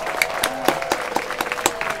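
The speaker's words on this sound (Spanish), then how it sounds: "Hice un aplauso, porque sí." Video game hands clapping steadily in Roblox, a quick, even rhythm, bright and close, with a faint tone humming underneath.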